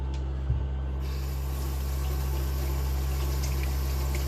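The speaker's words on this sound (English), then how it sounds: "run the hot water over my hands" Hot water runs steadily from a kitchen tap over bacon-greasy hands, a continuous close hiss and splash with a brief knock near the start and no talk.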